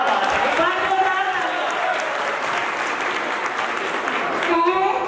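Loud audience applause fills a school program event, steady clapping from a crowd with some voices and cheers mixed in throughout.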